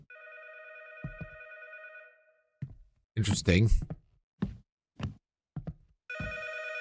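A telephone rings in the video game 12, Memory Lane: a steady electronic ring, then a gap filled with a few soft clicks and a brief spoken word, then the ring starts again.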